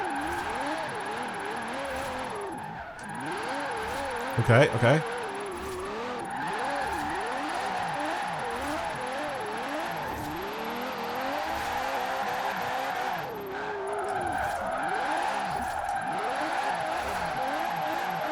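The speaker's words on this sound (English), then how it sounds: "Turning a race car into a drift car." A race car converted into a drift car in a video game slides through corners, its engine revving and wailing up and down in steady cycles with faint tire squeal, while someone briefly speaks over it.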